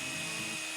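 A small drill bit bores into a hardwood stake to make a pilot hole for an eye hook, giving a steady, high-pitched whirring whine that holds for the whole moment with no talking.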